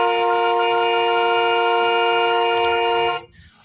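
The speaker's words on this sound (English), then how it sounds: "Why is he honking?" A car horn blasts in one long, loud, steady tone held for about three seconds, then cuts off abruptly, leaving quiet background.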